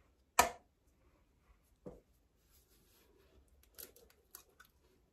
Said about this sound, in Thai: แล้วก็เตาะไข่ลงเลย